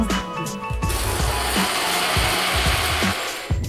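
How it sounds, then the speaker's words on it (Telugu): A kitchen mixer grinder whirs steadily as it grinds a spice mixture for a capsicum masala curry, a loud continuous motor whine with repeated knocking and rattling from the jar throughout. "ఇప్పుడు దీన్ని మిక్సీ చేసుకోవాలి"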